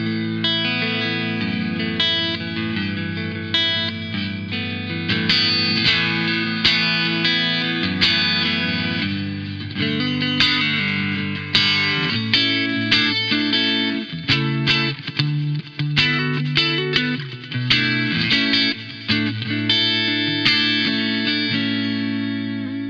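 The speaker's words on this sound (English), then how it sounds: "So here we go with the digital Fender sound." Electric guitar played through a digital Fender-style amp simulation on a Two Notes Revolt, with a clean, chorused and echoing tone, chords and single notes picked steadily for over twenty seconds, no voices.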